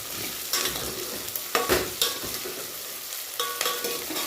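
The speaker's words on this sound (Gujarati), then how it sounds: "બટાકાની ડુંગળીને થોડીક વાર માટે આપણે તેલની અંદર સાતળવા દેવાના છે" Sliced potatoes and onions sautéing in hot oil for khari bhaat, a continuous close sizzle broken by several scraping stirs of a spatula in the pan.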